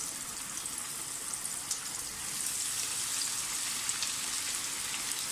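Steady hissing sizzle of fish frying in hot oil in a pan turned down to medium-low, a constant crackling spatter at moderate level with scattered small pops and no voices.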